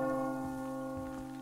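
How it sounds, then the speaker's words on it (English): A bell gongs in the video game Metro Exodus, its deep metallic tones ringing and sustaining with fresh strikes swelling in, loud and resonant with no voices over it. "Now stop gonging that bell, you know, you attract more beasts to this location"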